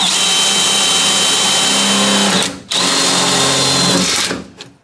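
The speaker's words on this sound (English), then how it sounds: "find the dots that you made, and then make a punch, then drill it out" Power drill boring out punched marks, a loud steady whine running about two and a half seconds, cutting out briefly, then a second sustained burst that trails off at the end.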